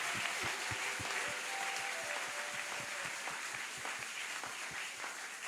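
A church congregation applauds at a weekday fasting and prayer service, with rhythmic, fairly quiet clapping that keeps a steady beat throughout.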